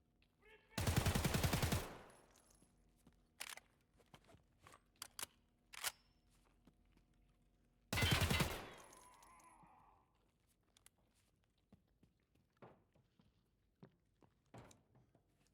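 Gunfire in Escape from Tarkov: two loud, close bursts of automatic fire several seconds apart, each ringing out before fading, with scattered sharp clicks, thuds and faint distant pops in the quiet between and after.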